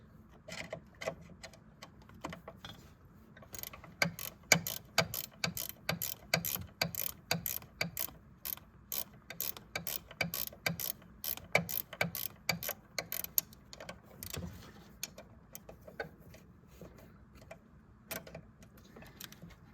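Box end wrench ratcheting a bolt on a Chevy Duramax during a thermostat job, a long run of close, crisp metallic clicks in quick irregular bursts with brief pauses, no talk.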